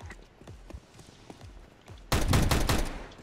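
Burst of video-game gunfire in a competitive bomb-plant round, a loud sustained volley erupting suddenly after a stretch of quieter scattered thumps and footsteps.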